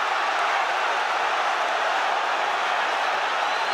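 A boxing arena crowd roaring at a Lomachenko versus Campbell bout, a steady, dense wall of cheering voices that holds at an even, loud level throughout with no distinct pauses.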